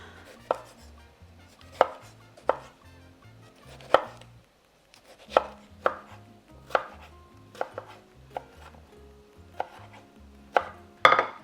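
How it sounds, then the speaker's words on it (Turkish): A knife finely dices skin-on tomatoes on a cutting board, a steady run of crisp taps with a brief pause midway. "Böyle domatesi kabuklu bir şekilde incecik küp küp doğrayacağım."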